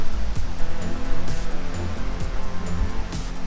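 Pawai waterfall in Balrampur, Chhattisgarh pours over big rocks with a loud, steady rush of water that fills the whole scene without a break.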